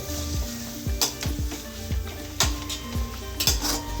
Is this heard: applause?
no